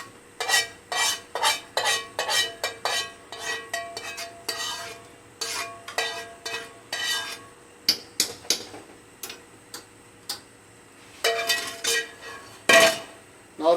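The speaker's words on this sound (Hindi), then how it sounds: "हम इनको तकरीबन 20 मिनट तक इस तरीके से हिलाते रहेंगे और पकाएंगे" Carrots and rice simmering in milk for gajar kheer are stirred in a cooking pot, with a spoon scraping and clinking against the metal in quick repeated strokes, close and fairly clear, broken by short pauses.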